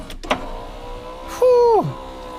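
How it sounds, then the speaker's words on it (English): A car's electric power window motor whirs steadily for about half a second as the glass winds down, ending in a soft thunk, after a brief click; close and clear with no talking, on a Nissan Skyline R32. "Oh yeah, the window goes down."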